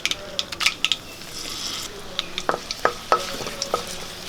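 Mustard seeds and dried red chillies sputtering in hot coconut oil for ulli sambar, close crackling pops scattered over a soft frying hiss with a few spoon-on-pan clinks, no voices.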